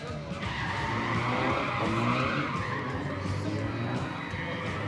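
Race cars skid and roar past under a gantry during a motor race, with a dense, steady wash of engine and tire noise and a commentator talking over it throughout.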